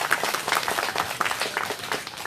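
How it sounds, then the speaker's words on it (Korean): A crowd at a Korean Wednesday outdoor rally in Soseong-ri applauds briskly in a short, dense burst of clapping, moderately loud and fairly close. "힘찬 박수 보내주십시오."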